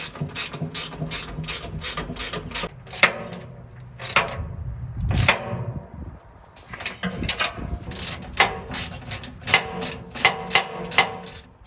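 A hand ratchet tightens bolts while a Char-Griller Grand Champ XD offset smoker is assembled: close, rapid bursts of rhythmic clicks, a short pause with a thud and some handling noise, and then further regular runs of clicking.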